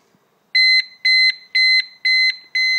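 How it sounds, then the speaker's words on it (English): A loud electronic rev counter warning alarm in a Corrado VR6 beeps five times in a steady, even rhythm, each tone a short high-pitched pulse with brief gaps between. "once the alarm is set off, it won't turn off until you turn off the engine"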